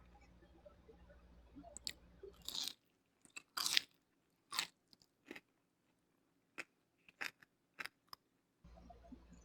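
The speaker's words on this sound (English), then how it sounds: "It's crispy, crunchy and juicy and gooey from inside." Crisp crunchy bites into a breaded chicken cordon bleu stuffed with turkey and cheese, a series of sharp close crunches and chews separated by brief silences.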